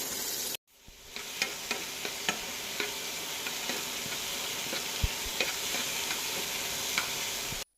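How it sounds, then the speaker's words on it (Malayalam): Ginger, garlic, green chilli, onion and tomato sauté in hot oil for kara chutney, a continuous close sizzle broken by light periodic stirring clicks after a brief silent gap at the start. "ഇനി കുറച്ച് എണ്ണ ചൂടാക്കാം അതിലേക്ക് ഇഞ്ചി വെളുത്തുള്ളി ഇട്ട് മൂപ്പിച്ച ശേഷം പച്ചമുളക് ഉള്ളി തക്കാളി എന്നിവ ചേർത്ത് ഒന്ന് വഴറ്റിയെടുക്കാം"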